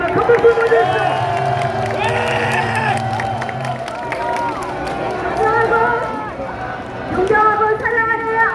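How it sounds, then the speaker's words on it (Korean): Crowd at a Korean presidential election campaign rally in Anyang cheers and applauds loudly, with shouts, whoops and a dense babble of voices throughout, plus amplified music or chanting underneath. "큰 박수 보내주십시오."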